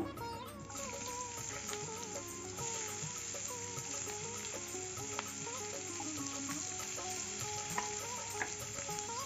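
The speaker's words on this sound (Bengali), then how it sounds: "ফোড়নটা হয়ে গেছে, এখন পেঁয়াজ কুচি দিয়ে দেবো।" Chopped onion fries in hot oil over black cumin seed tempering for a Bengali chela fish curry, giving a steady, dense sizzle with occasional stirring scrapes and no talk.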